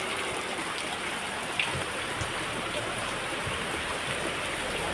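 Heavy rain falls steadily and densely, a continuous close hiss of drops striking surfaces with no letup.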